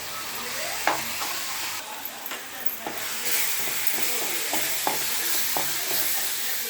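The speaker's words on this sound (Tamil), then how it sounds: "நல்லா வதங்கட்டினது பச்சை ஸ்மெல்லாம் போயிட்டு கோல்டன் ப்ரௌன் கலரில் வரணும் அது வரையும் நல்லா வதங்கட்டும்" Ingredients sauté in a pan for prawn gravy, with a continuous loud sizzle and occasional spoon scrapes and taps during stirring.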